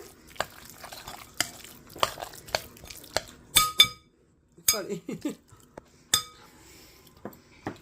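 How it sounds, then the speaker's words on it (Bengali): Tuna, mayonnaise and lemon juice being mixed in a bowl, a series of sharp utensil clinks and scrapes in an irregular rhythm, close up, with a short silent pause midway. "এখন আমি তুনা মাইনাস আর লেবু রসটা একসাথে মিক্স করে নিচ্ছি"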